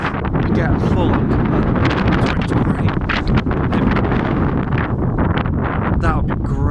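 Powerful gusting winds roar and buffet the microphone outdoors during a storm with debris about, loud and unbroken throughout with rustling and a voice speaking under it.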